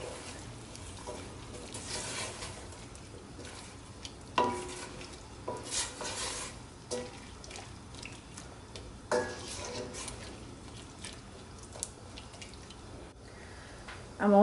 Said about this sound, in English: Let's stir this in.